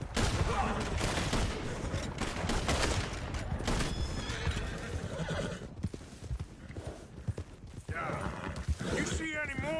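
Horses in the Red Dead Redemption 2 video game, with loud clip-clopping hooves throughout and whinnying mixed with gunfire bursts and frequent talking voices, busy and close.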